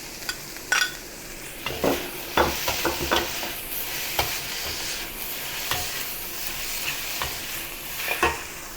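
Mushrooms stir-fried over high heat with cucumber and green onion sizzle in a pan, while a utensil scrapes and clatters against the metal in repeated close strokes over a constant hiss.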